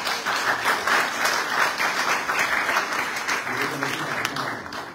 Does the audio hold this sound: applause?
yes